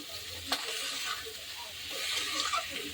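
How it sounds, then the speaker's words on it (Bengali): Cauliflower being stirred in a frying pan for a Bengali katla fish curry with potato, a steady soft scraping sizzle running throughout with one sharper clack of the utensil near the start. "ভালো করে নেড়ে নিচ্ছি"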